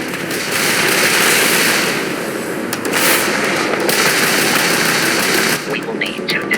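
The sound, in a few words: spaceship weapons fire in ship combat, from video game Starfield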